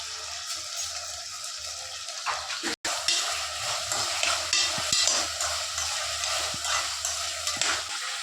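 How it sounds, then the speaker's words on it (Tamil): Tomatoes and onions sauté in a pan with salt, a steady close sizzle with stirring scrapes throughout, broken by one brief dropout near the middle. "அதோட சேர்த்து தக்காளியும் சேர்த்துக்கலாம். இது நல்லா வதங்கட்டும்."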